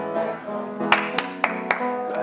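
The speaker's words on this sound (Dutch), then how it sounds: "Even klappen." Elderly people in an audience clap a few scattered, separate times at a slow pace, under and between continuous singing or talk.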